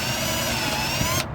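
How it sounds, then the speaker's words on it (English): A power drill whines steadily at close range while boring a small pilot hole into fiberglass FRP on a water park slide, then cuts off abruptly near the end. "I'm going with a smaller drill hole"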